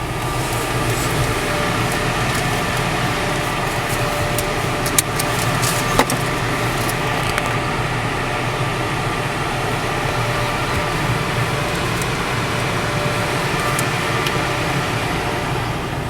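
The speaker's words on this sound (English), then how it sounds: "I'm gonna see if I can get some talking done in the car wash here as well" Car wash machinery drones steadily around a Jeep Wrangler, heard from inside the cabin as a constant loud hum and whir with brief clicks and knocks, and no talking.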